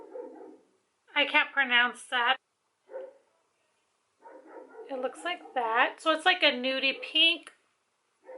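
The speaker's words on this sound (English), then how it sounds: "Sorry about my dog." A small dog barks and yips in quick bursts, loud and close, alternating with and overlapping someone talking.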